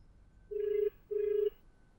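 An unanswered outgoing phone call rings as two steady electronic ring tones, each a bit under half a second with a short gap between, clear and moderately quiet over faint background hiss.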